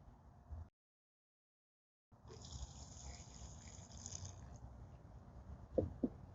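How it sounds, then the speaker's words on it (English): Cloudy starchy water from rinsing sticky rice is poured out of a container in a soft, steady splashing stream lasting a couple of seconds, fairly faint, after a brief pause. "Dump the water out."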